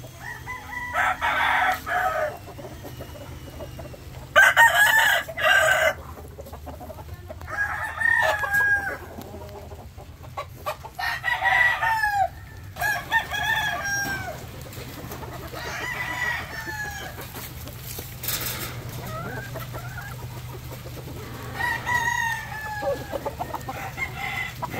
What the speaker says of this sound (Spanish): aquí tiene algunos pollos